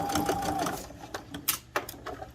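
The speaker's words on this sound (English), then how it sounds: "I'm just going to stitch right along the edge of that." Sewing machine stitching along the edge of a self-binding quilt, a steady mechanical whir that then breaks into short bursts of stitching with brief pauses between them.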